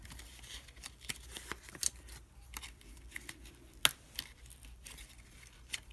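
A craft knife slices through paper in a series of soft, scattered scraping cuts and light taps, close and fairly quiet, with irregular pauses between strokes.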